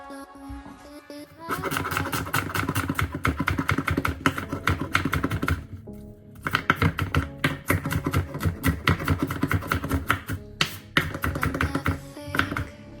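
Rapid knife chops through an onion on a cutting board while preparing Chinese chicken fried rice, dense bursts of close, sharp taps separated by short pauses.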